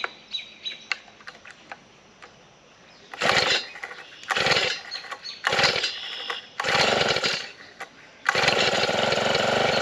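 A small garden tiller engine is pulled over repeatedly, each recoil pull giving a short loud sputtering burst, several in a row, before it catches and runs steadily at the end.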